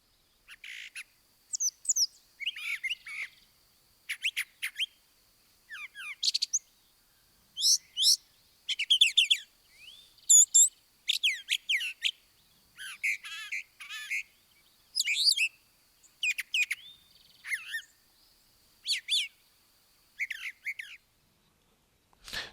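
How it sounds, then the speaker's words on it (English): A brown thrasher sings a long series of varied phrases, often repeated in pairs, in bright quick bursts separated by short pauses, clear and alone against a quiet background. "let's take a listen to a brown thrasher"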